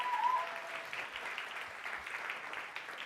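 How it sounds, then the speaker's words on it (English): Audience applause at a charity gala fundraiser, steady dense clapping from a crowd that holds for the whole stretch, fairly close, with a brief whistle-like tone near the start. "Can we have a big round of applause?"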